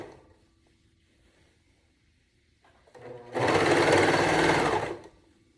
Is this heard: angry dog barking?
no